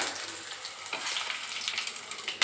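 Dry red chillies, coriander seeds and peanuts frying in hot oil, a brief close sizzle with light crackles and a stir, no talk.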